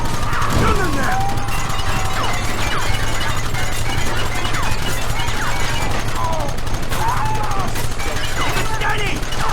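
Gunfire in a Red Dead Redemption shootout among rocks, with repeated rapid shots and crackling bursts running continuously, loud and busy, layered with shouted voices and game music.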